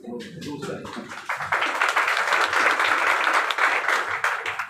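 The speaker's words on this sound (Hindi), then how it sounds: "आपकी ऑडियंस जो है ना, बड़ी मजेदार है, दूसरे के दुख दर्द पे भी ताली बजाती है" An indoor audience at a business seminar breaks into loud, sustained applause after a moment of speech, the clapping swelling and holding steady until the end.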